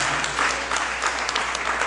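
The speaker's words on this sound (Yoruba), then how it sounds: "pàtẹ́wọ́ ńlá fún wọn" Audience applause at a church gathering, heard as dense, loud, continuous clapping from a crowd throughout.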